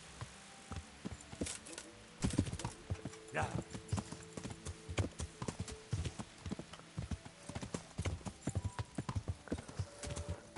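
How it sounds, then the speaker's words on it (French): A horse gallops in Kingdom Come: Deliverance, its hooves pounding in a fast, steady clip-clop rhythm under spoken commentary, with a brief whinny partway through. "Allez, saute le cheval."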